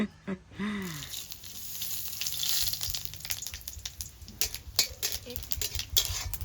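A tempering for a vegetable curry is stirred in a pan: a crackling sizzle with irregular clinks and scrapes of the utensil against the metal. It gets busier and louder in the second half, close by.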